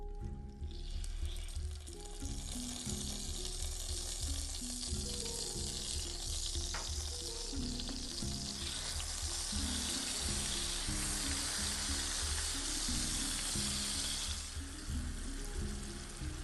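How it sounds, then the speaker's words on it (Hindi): Ground onion, tomato, ginger-garlic and dry spice masala frying in a pan, giving a steady quiet sizzle that runs throughout, with a low background hum and occasional stirring scrapes. "और 5-10 मिनट इसको आपने अच्छे तरीके से मसाले को भून लेना है।"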